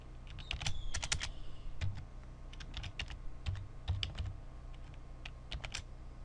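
Rapid, uneven keyboard typing, crisp clacks coming in short bursts and pauses, close up with no one talking.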